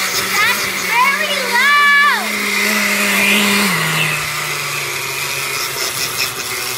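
A countertop blender running on its ice crush setting for a lemon milkshake, a loud steady motor whine with shifting pitch throughout, while a child and an adult talk over it.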